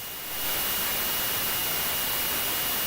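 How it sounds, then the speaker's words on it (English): A steady jet engine drone from the F-117A Nighthawk Stealth Fighter 2.0 flight game swells in over the first half second, then holds as a loud, even hiss with no talk. "this engine sound is bearable"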